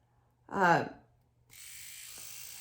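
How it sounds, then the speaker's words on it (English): A small Remington electric facial shaver switches on after a brief spoken word and hums steadily with a high buzzing whine, close to the microphone. "once a month, I shave my face with this little Remington thing"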